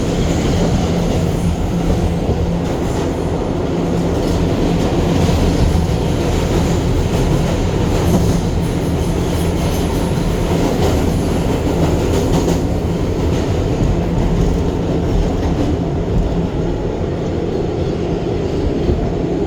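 Interior ride on an R211 New York subway car on the Brighton Beach-bound B train: a steady, loud rumble of wheels and car body throughout, with faint rail clatter and no talking.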